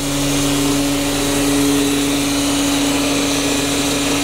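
An automatic transmission fluid exchange machine hums loudly and steadily while servicing a Mercedes 320 CDI V6 gearbox, a constant motor drone with a fixed tonal whine and no pauses.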